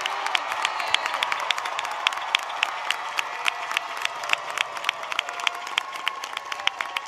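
Commencement audience at Rice University, alumni, parents and friends standing to applaud Sid Richardson College degree candidates: a broad, hall-filling wash of clapping with sharp individual claps popping out, light cheering and a few whoops.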